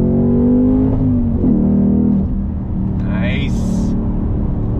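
A 2021 Ford Mustang Mach 1 with a Shaker hood revs and accelerates loudly up close, its engine note rising then settling into a steady roar, while someone talks over it briefly.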